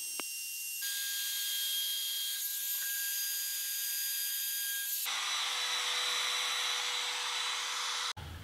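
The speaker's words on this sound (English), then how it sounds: "I'm just going to use a trim router and hit the edge with a chamfer bit and just ease it a little bit." A trim router with a chamfer bit eases the edge of a white oak floating shelf, giving a high, steady whine that rises in pitch and fills out midway through before cutting off abruptly near the end.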